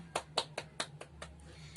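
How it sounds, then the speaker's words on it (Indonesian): Classroom applause for a student named Theo: a handful of light, evenly spaced claps, fairly quiet and tapering off over under two seconds. "Kita tepuk tangan untuk Theo."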